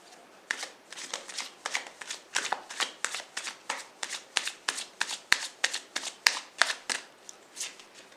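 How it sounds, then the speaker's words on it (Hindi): Tarot cards are shuffled in a quick, even rhythm of crisp riffling flicks, about twenty-five close, soft bursts repeating steadily with no talk. "एक और कार्ड निकाल लेते हैं।"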